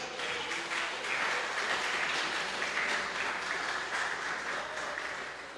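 A church congregation applauds during a sermon, a sustained, fairly distant burst of many hands clapping that swells early and tapers off slightly toward the end, with a faint voice briefly audible.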